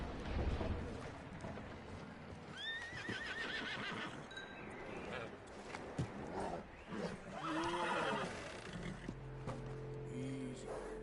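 A horse whinnies with high wavering neighs amid clip-clop hoofbeats and a dense, busy game soundscape in a western-style video game, the calls rising clearly twice over continuous background noise.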